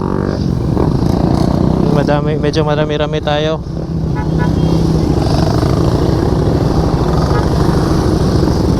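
Several Suzuki motorcycle engines, including a Suzuki Raider 150, rumble and rev loudly together nearby as a group rides off, with a person speaking briefly over the noise.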